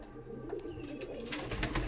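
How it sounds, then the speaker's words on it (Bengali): Inside a loft of aggressive Madrasi pigeons, low rolling coos come from nearby birds, joined by brief flaps and rustling that grow a little louder toward the end, with no speech. "দেখছেন এই বেবি বেলা থেকে দেখুন কত অ্যাগ্রেসিভ পায়রা,"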